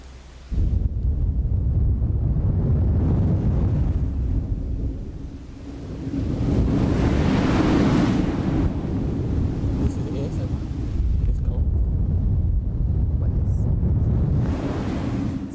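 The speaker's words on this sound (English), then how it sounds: "Ocean waves." Ocean waves rolling and washing in a continuous broad roar, swelling louder midway and again near the end, with wind buffeting the microphone throughout.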